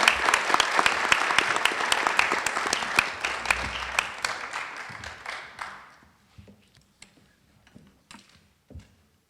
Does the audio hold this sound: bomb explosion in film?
no